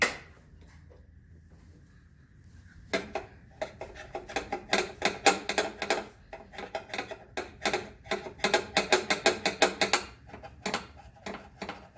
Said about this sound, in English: switching over to the 13 millimeter box wrench here. It's the only thing that'll fit.